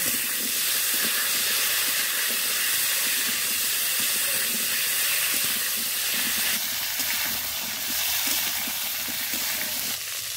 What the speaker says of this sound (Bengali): এবার এগুলো সবগুলো একসাথে ভেজে নেব।